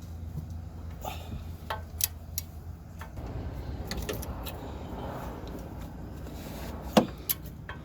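A torque wrench gives sharp metallic clicks while a Toyota 4Runner front upper control arm nut is tightened; a couple of isolated clicks come early, then a quick double click near the end over faint workshop background.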